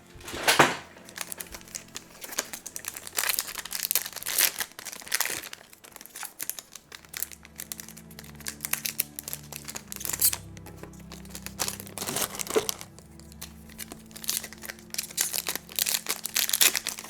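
Foil wrappers of X-Files Seasons 6 & 7 trading card packs crinkle and tear near the mic as several packs are opened at once, in a steady run of crackling rustles with sharp bursts.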